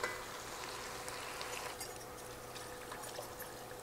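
Four cups of chicken broth poured into a hot skillet for Cajun chicken Alfredo, a continuous splashing pour over a soft sizzle, at moderate level, with no talk.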